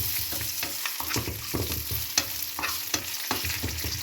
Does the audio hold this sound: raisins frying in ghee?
yes